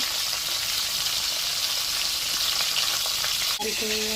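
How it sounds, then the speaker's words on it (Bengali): Fish fries in a pan of hot oil with a loud, steady hiss close to the listener and faint crackles underneath. A brief knock near the end is followed by a short ringing tone. "ফিশ ফ্রাই করতেছি"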